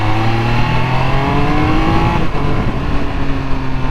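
Triumph Speed Triple 1200 RS motorcycle engine under way, a loud steady drone with rising pitch as it pulls through a gear, a brief dip at a quick-shifted change, then building again, wind roar beneath.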